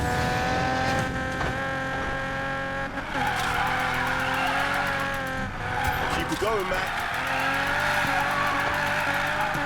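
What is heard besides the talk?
car drifting with tire squeal in Need For Speed Payback video game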